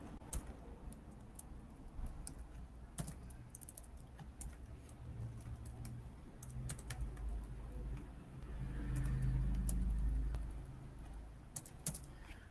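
Quiet typing on a computer keyboard, irregular soft key clicks in short bursts close to the microphone, with a low muffled hum swelling briefly in the background and no speech.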